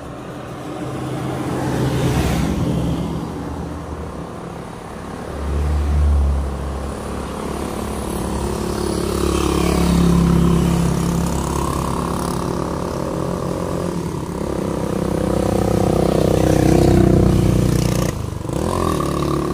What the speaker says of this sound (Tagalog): Guys, sasakyan.